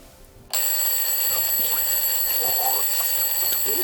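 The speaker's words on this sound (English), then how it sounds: "I set the alarm clock for the wrong time." An alarm clock rings out suddenly after a brief quiet, a bright continuous electronic ringing that holds steady and loud to the end, with faint rustling and movement beneath it.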